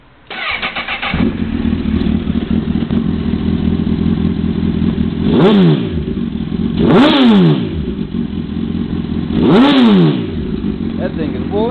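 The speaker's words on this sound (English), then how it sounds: "See if we can get this bike cranked up for you." A 2005 Honda CBR1000RR with a Micron exhaust starts up and settles into a loud, steady idle, then is revved three times in sharp rising and falling blips, heard close up with someone talking over it.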